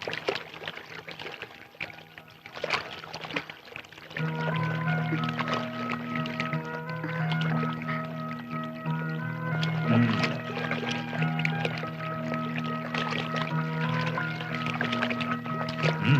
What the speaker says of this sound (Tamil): இந்த சுடு தண்ணியில இப்படி பச்சை தண்ணி கலக்கணும்